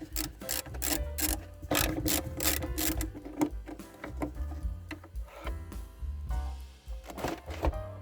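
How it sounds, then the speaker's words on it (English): Ratchet clicking in quick bursts while undoing two center console bolts under the armrest of a Volvo 850 interior, with close metallic mechanical rattles and pauses between runs. "So there's 2 bolts in the center console under the armrest we'll have to undo."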